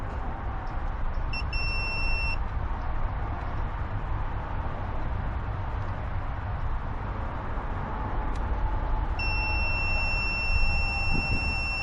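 An electrical continuity tester beeps as it probes the connector pins of a Mercury 300LX outboard's engine communication wiring, two sustained high-pitched tones about a second long, separated by a long stretch of low background hum.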